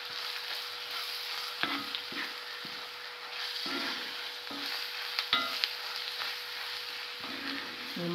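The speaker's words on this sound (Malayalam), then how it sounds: "ഈ മസാലയെല്ലാം നല്ലതുപോലെ ഒന്ന് മൂത്ത് വരണം, അതുപോലെ മൂത്ത് വരട്ടെ" Masala fries in oil in a pan for a Kerala-style beef roast, with a steady close sizzle and repeated scraping stirs of a spoon against the pan.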